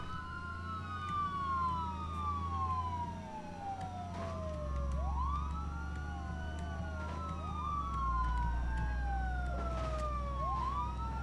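A police car siren wails in road traffic, its pitch sweeping up and down repeatedly over a steady low traffic rumble, loud and close throughout with no talking.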